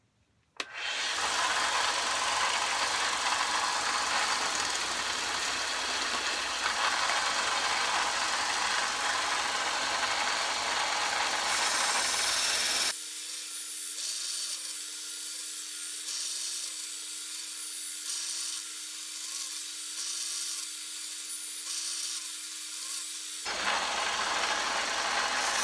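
A 1x30 belt grinder polishing a knife edge, a loud steady motor whine with abrasive hiss that runs continuously and shifts in tone midway as the blade meets the belt, with no talking.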